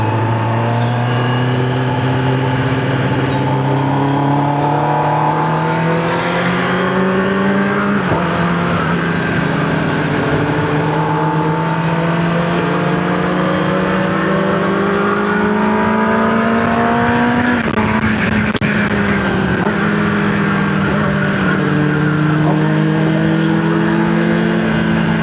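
Superbike fitted with an Arrow exhaust, revving hard and loud up close, engine pitch climbing through repeated rising sweeps and dropping between them, continuous for about twenty-five seconds with no talking.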